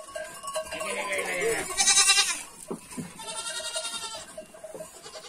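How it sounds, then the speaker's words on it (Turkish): Goats bleat repeatedly on a farm, several loud wavering calls near at hand overlapping one another, with a faint cowbell-like clink and rustle in the background and no speech. "Bunlar da babamın geçileri."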